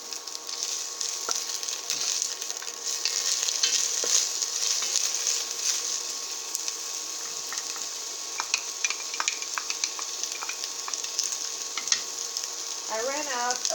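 Chopped onions fry in hot coconut oil in a pot, giving a steady, bright sizzle that crackles continuously. A few faint scrapes and knocks come near the end.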